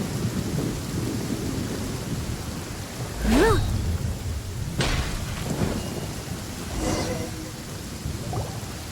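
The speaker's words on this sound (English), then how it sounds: "Please stay indoors until the storm passes." A video game thunderstorm with steady rain hissing throughout, thunder cracks rumbling in around the middle of the stretch, and a brief tonal game sound rising over the storm.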